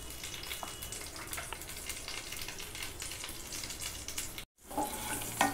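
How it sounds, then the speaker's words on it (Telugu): Mustard and cumin seeds splutter in hot oil with slit green chilies and turmeric, a dense crackling sizzle with sharp pops, broken by a brief silent gap near the end before resuming. "ఆవాలు కానీ జీలకర్ర కానీ చిటపడమంటేనే మీకు దానిలో ఉండే సారం అంతా నూనెలో దిగి"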